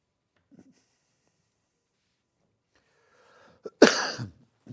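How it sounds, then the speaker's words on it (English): A single hoarse cough, near and fairly loud, after a few seconds of near silence and a faint breath. "Excuse me, I've got a little bit of a cough this morning."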